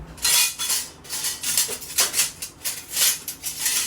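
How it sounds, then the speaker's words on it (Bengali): Shell being peeled off a boiled turkey egg: close, crackly scratching in quick repeated bursts, each a short rasp of breaking shell, with brief gaps in between. "এখন এটাকে সুন্দর করে খোসা ছাড়িয়ে নিব"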